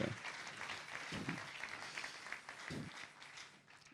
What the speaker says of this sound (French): Est-ce qu'on peut acclamer le Seigneur pour elle?